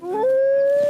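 A cartoon wolf cub lets out a single loud, sustained howl lasting about a second, rising at the start and holding a steady pitch, close and alone with no talk.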